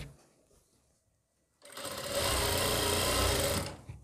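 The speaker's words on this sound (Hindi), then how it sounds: "ये इसी तरीके से मैं ये पूरी सिलाई लगा लूँगा" After a quiet start, a sewing machine stitches the waistband of a churidar pajama in one loud, continuous run of about two seconds that stops abruptly.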